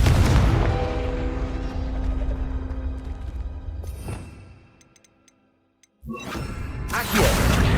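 A Confringo fire spell from Hogwarts Legacy blasts with loud booming impacts and crackling rumble that fades to near silence, followed by another sharp burst of loud noise.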